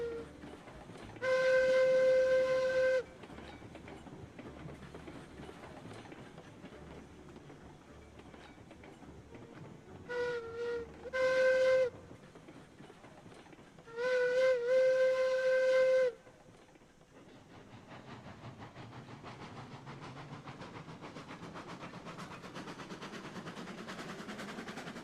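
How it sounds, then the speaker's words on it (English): Steam locomotive whistle in the railway game Railroads Online gives three loud tonal blasts, a long one, a short pair, then another long one, each echoing, over a steady rumble of train running noise. "The whistle echoes, at least."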